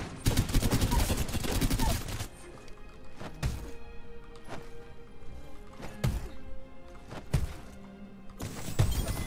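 Gunfire in Apex Legends: a rapid automatic burst at the start, then scattered single shots and impacts over a busy game mix, with a closing burst.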